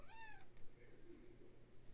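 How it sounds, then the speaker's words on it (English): A house cat lets out a short rising-and-falling meow near the start, fairly close but soft, then the room goes quiet apart from faint background noise. "My cat just came to visit."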